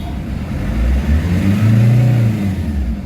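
A low-powered Nissan Navara engine with fuel knocking revs up and down in a couple of swells around 3,000 to 4,000 RPM, a steady mid-pitched drone heard close by without speech.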